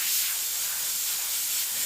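Quiet, steady hiss of spray paint from an aerosol can, an even airy spray lasting the whole moment with no talking.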